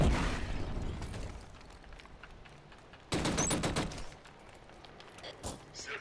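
A grenade blast and gunfire in the shooter Killzone: Shadow Fall during a clan match, with loud bursts and a sharp explosive onset midway, trailing rumble and scattered shots, and a voice briefly audible under the battle.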